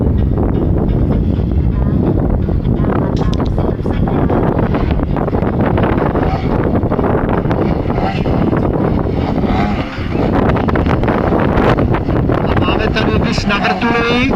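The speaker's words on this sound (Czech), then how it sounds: "bohužel zesílil vítr" Strong wind blowing across an open airfield during an air show, a steady, loud roar buffeting the microphone for the whole stretch, with a voice faintly present beneath it.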